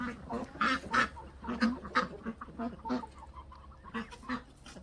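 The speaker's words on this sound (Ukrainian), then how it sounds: "Дуже файний півень." A rooster and other poultry cluck and call nearby in short repeated bursts, several birds overlapping in a busy, uneven rhythm.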